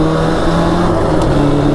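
ATV engine held at a steady high drone through a gear shift, loud and close, with a continuous buzzing tone and little change in pitch.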